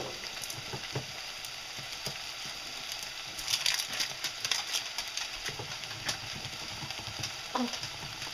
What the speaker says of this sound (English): Now we can put the mushrooms in